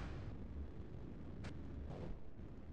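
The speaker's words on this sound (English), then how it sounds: "Aye, aye, Commander. Firing missile." A missile launches in a naval strategy video game, a deep rumbling roar with a brief sharp hiss burst midway, steady and fairly close.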